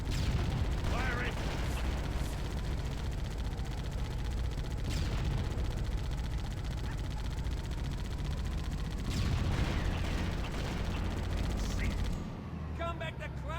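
Gunfire and explosions from the video game Halo: Combat Evolved, with rapid firing, blasts and battle noise filling the whole stretch and talk mixed in.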